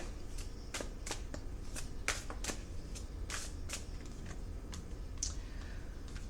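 A deck of tarot cards is shuffled close up, a continuous run of crisp riffling flicks and slaps in irregular bursts over a faint background hiss.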